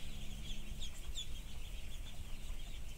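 Many ducklings peeping continuously, high thin chirps overlapping in a busy flock, under a low steady background rumble.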